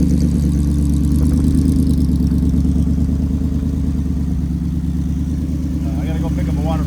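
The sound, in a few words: V8 car engine idling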